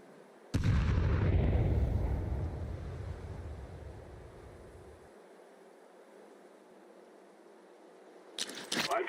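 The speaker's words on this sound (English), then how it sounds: "Grenade!" A grenade blows up in a shooting video game with a sudden loud blast that rumbles and fades over several seconds, followed near the end by more sharp game gunfire.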